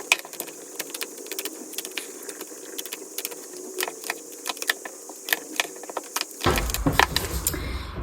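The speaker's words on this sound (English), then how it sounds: "So let's shuffle the deck and see what messages come through." A deck of tarot cards is shuffled close up, making crisp, irregular clicks and riffles over a quiet room. A heavier rustle of handling comes near the end.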